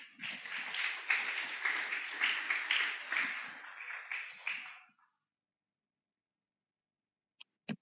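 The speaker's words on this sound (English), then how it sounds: "Let's give an applause." Audience applause at an opening ceremony for an international course, a dense sustained burst of clapping for about five seconds that then stops into silence, with two faint clicks near the end.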